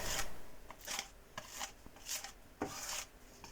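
A trowel scrapes and smooths a gesso and stucco mix across an old house wall in repeated raspy strokes, about six close, fairly quiet sweeps with short gaps between them and no talk.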